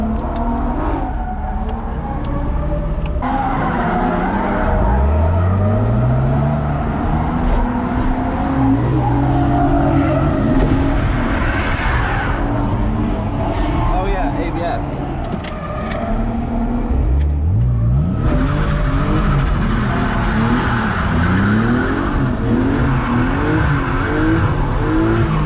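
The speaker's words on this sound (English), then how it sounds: "I'm gonna go do my first laps and see what this car's like" BMW E36 drift car lapping a track, engine revving hard through rising and falling pitch sweeps while tires skid and squeal almost continuously, loud and close with two distinct acceleration runs.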